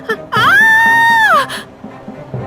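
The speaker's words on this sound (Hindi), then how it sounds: "चीख क्यों रही हो?" A woman lets out one loud, sustained scream lasting about a second, rising sharply and then trailing off, in a dramatized Hindi horror story.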